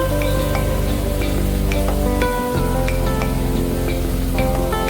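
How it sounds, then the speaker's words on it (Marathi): Rava-coated bombil fish frying in hot oil on a flat pan, a loud, close, continuous sizzle with scattered sharp pops and spatters throughout. "गरम तेलामध्ये आपण त्याला टाकत आहोत, जेणेकरून ते कुरकुरीत फ्राय होतील।"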